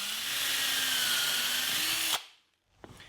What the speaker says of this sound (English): the first step is to pre-drill and countersink holes for the screws